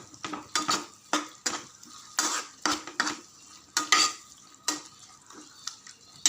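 Washed prawns tipped into a pan of sautéed aromatics for a prawn gravy, then stirred: a rapid series of close, loud spoon scrapes and metal clatters over a light frying sizzle.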